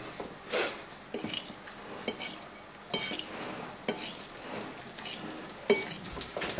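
Falafel ingredients seasoned with black pepper are stirred in a bowl, a utensil scraping and clinking against the sides in a loose, repeated rhythm, close and fairly quiet.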